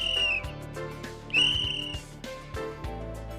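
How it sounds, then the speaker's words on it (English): Short, shrill whistle blasts sound in a quick sequence, several bright piercing toots over a low backing tone, fairly close and clear. "Correct. It's a whistle."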